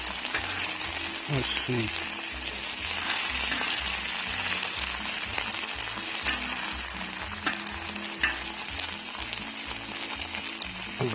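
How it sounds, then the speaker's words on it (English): Bacon fries in a pan over a camping stove flame, a constant close sizzle and crackle over a low, pulsing burner hum, while a person speaks briefly. "You can see the bacon doesn't look that burned."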